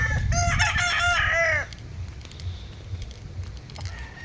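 A rooster kept for cockfighting gives one loud, close crow with a clucking edge. A low farmyard murmur follows, with faint scattered clucks.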